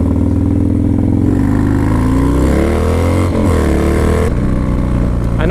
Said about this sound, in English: another thing I totally love about this bike is the freaking exhaust, the way it sounds